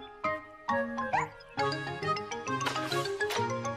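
Cartoon puppy in a children's animated Miffy story yapping in short high barks and yips over light jingling music, moderately loud, with no talk.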